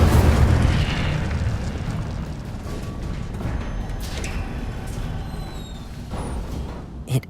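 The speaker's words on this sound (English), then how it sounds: "Incendio!" Incendio fire spell in the Hogwarts Legacy video game, a loud fiery burst that opens strongly and fades into a sustained rumbling crackle with small sparkling accents, no voices over it.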